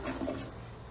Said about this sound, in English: But once in a while, you'll have to give it a flush.